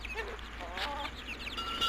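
Aseel rooster on a free-range farm, giving short clucks and bursts of calls over a steady low hum, with other chickens around.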